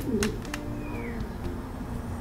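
A Dirrell Sablon Dendroma racing pigeon, a small distance-racing blue hen, gives a short low coo near the start, with faint chirps and steady loft background noise around it.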